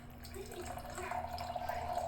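Wine pouring through a Coravin aerator into a glass, a soft continuous liquid trickle and splash that grows slightly fuller toward the end, faint and close.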